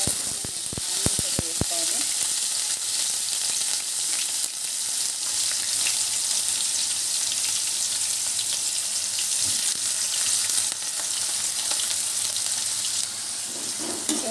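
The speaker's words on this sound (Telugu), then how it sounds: "వచ్చేసి ఆనియన్ అయితే బాగా మనం ఫ్రై చేసుకోవాలి" Onions frying in hot oil in a kadai for an amaranth leaf fry, with a loud, continuous close sizzle and a few quick stirring clinks at the start, with no talk.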